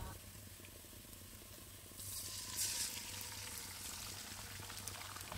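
Eggs hiss and sizzle steadily in a hot pan for fried rice, a soft continuous crackle that swells slightly after the first couple of seconds, with no talking.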